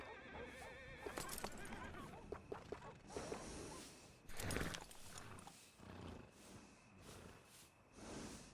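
A horse in the video game Red Dead Redemption 2 gives a loud whinny and snorts, with hooves clip-clopping nearby and other game sounds in the background.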